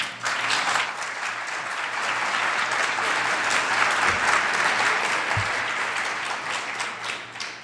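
Sustained applause from a public meeting audience after a talk on Oregon's LNG future, a dense, even roar of many hands clapping that holds steady for several seconds before tapering slightly at the end.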